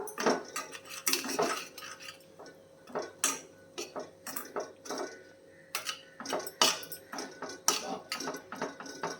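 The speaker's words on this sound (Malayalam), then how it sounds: "എടുത്തു വെച്ചിരിക്കുന്ന ഗോതമ്പ് പൊടി ഇട്ട് കൊടുക്കാം ഇട്ട് കൊടുത്തിട്ട് നല്ല രീതിയിൽ മിക്സ് ചെയ്തേക്കാം" Wheat flour is stirred into hot water in a metal pot for soft chapati dough, with rapid, uneven scraping and clinking of a spoon against the pot, close and fairly quiet.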